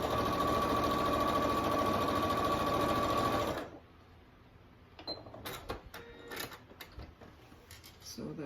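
Sewing machine stitching straight across a fabric photo ID pouch, a steady loud close whir for about three and a half seconds, then stopping, followed by quieter handling rustles and clicks.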